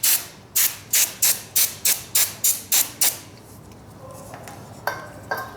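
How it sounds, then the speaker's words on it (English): Carb cleaner is sprayed onto the plunger of a Mikuni carburetor from a Yamaha Banshee in about nine quick, evenly spaced hissing bursts, close and loud, followed by quieter handling clicks and faint trickling. "And then spray the plunger itself."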